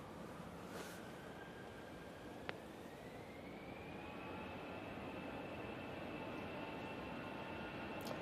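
An EasyJet airliner rolls at Manchester Airport during a storm, a distant jet roar under buffeting wind noise with a slowly rising engine whine, faint and continuous throughout.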